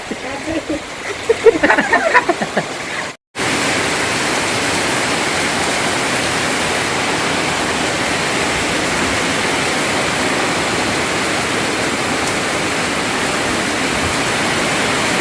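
Heavy rain falls in a steady, loud roar that runs unbroken for most of the clip, after a few seconds of voices at the start and a brief cut to silence.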